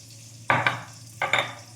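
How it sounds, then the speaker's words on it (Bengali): Mashed lentils being kneaded by hand with garlic, green chilli, black cumin, salt and mustard oil, heard as two close, wet squelching pushes, each a quick double squish, with quiet pauses between. "সুন্দর করে মেখে নিচ্ছি সব একসাথে"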